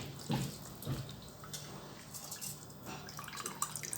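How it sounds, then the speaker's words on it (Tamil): Soaked jeera samba rice sheds its water, giving soft, faint drips and trickles in a quiet kitchen with no talking. "நல்லா தண்ணி வடிய விட்டு போடுங்க."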